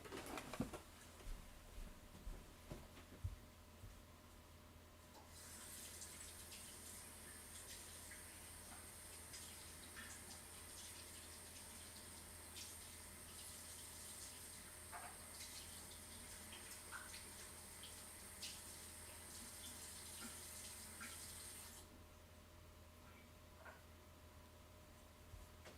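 Water running from a bathroom tap, a faint steady hiss that holds for most of the stretch behind soft room noise and scattered small clicks.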